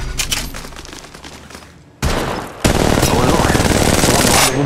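Rapid automatic gunfire in a shooter game called carnage, a quick rattling burst that fades, then a louder, denser continuous stream of shots filling the rest, close and intense.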